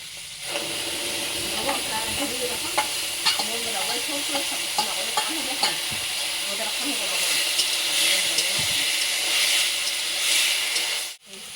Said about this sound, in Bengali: এখন এটা দিয়ে দেবো, দিয়ে তারপরে ফ্রাই করবো।